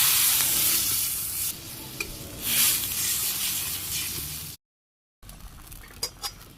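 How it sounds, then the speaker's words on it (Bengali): Spiced curry sizzling and bubbling loudly in a pan over a clay stove as water is poured in, with steady hiss and stirring, a brief gap of silence, then quieter sizzling with small clinks. "এই যে কষা নিয়ে গেছে আমি জল দিয়ে দিলাম"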